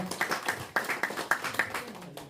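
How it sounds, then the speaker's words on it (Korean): A small audience at a policy forum gives brief, scattered applause, a few sharp claps standing out at moderate loudness. "큰 박수 부탁드립니다"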